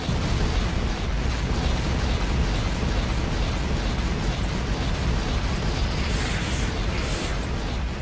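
Grenade blasts in the Factorio video game, a dense, continuous rumble of overlapping explosions holding steady and loud throughout with no clear gaps.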